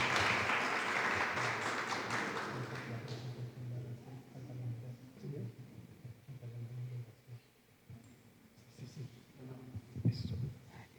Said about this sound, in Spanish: Un aplauso para el profe